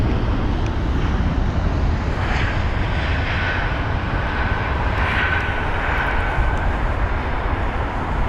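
An Airbus A320 airliner coming in to land at London Heathrow, a steady broadband jet engine roar holding loud throughout with a faint whine rising and fading over it.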